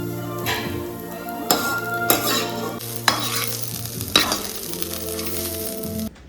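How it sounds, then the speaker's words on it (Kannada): Grains frying in hot oil in a pan, a steady sizzle throughout with several louder bursts of stirring and scraping against the pan, heard close up with no talking. "ಕಾಳನ್ನ ಕೆಂಪಾಗೋ ತನಕ ಎಣ್ಣೆಲಿ ಫ್ರೈ ಮಾಡಬೇಕು."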